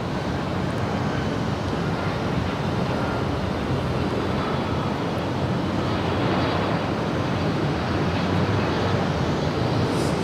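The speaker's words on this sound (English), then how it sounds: "This is Aero Union Flight 1300 coming in from Guadalajara." An Aero Union airliner on its approach into LAX from Guadalajara, a steady broadband roar of jet engines and wind that holds loud and even for about ten seconds with no voices.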